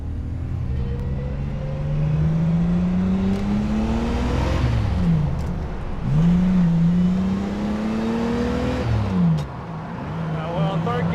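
Lister Storm road car engine revving hard and climbing through the gears, loud rising pitch sweeps broken by short dips at each upshift, heard from inside the car.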